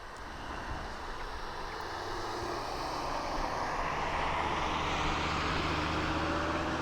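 Aircraft at East Midlands Airport at night, its engines a broad steady roar that gradually swells louder from a distance with no voices.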